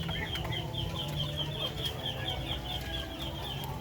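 Backyard chickens feeding on corn kernels, with dense clucking and scattered pecking sounds close by, steady throughout with a few sharp high calls.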